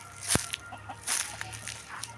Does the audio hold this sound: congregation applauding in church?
no